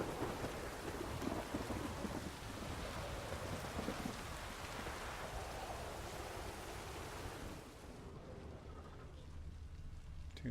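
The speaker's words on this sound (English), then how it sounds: "Pouring down with rain." Heavy rain pours down steadily in The Witcher 3 as a broad, hissing wash that stays constant, quieting slightly near the end.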